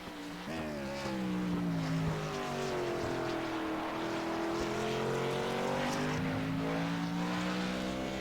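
Stock cars race down the straight at Motegi in a sim racing game, their engines making a steady loud roar with several overlapping pitched drones slowly gliding, continuous over the whole stretch.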